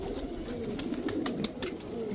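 Aged racing pigeons coo steadily on a rooftop, low rolling calls repeating close by under light rustling, with no one speaking.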